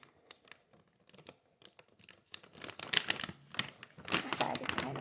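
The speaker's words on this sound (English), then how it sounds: "This bag is kind of hard to open." A stiff bag of Krusteaz gluten-free flour is pried open, sparse crinkles giving way to louder crackling, crumpling and tearing of the packaging close by, with some speech over it.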